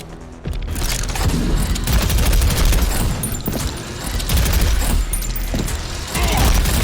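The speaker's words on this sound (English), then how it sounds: "let's try it on this guy here with the chain gun" A chain gun roars in the video game Prodeus, a dense, loud continuous barrage of rapid shots and booming impacts after a short spin-up, with brief dips in the firing before it resumes at full force.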